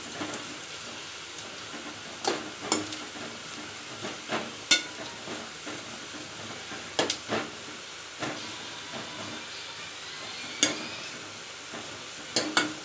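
Chopped onions fry in a pan for sambar, giving a faint, steady hiss broken by a dozen or so sharp stirring clicks and scrapes, with no voices.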